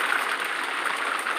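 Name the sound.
rain falling outside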